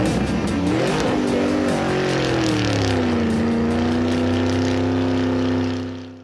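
A Goblin 250 racing vehicle's engine roars loudly up through the revs, then holds a steady high-pitched drone before fading away at the end, with no talking.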